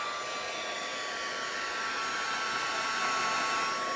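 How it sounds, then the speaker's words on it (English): A heat tool blowing hot air onto alcohol ink in a stamping craft session, a steady loud whooshing fan noise with a faint high whine, continuous and unchanging throughout with no speech. "So you can kind of do the same effect with your heat tool."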